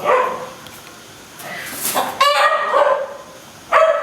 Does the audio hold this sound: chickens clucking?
yes